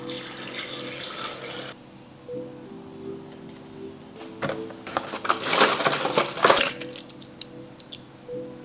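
A kitchen tap runs water for a protein shake in a gush lasting under two seconds. Clinks and knocks follow, then a louder splashing pour and rattling near the end.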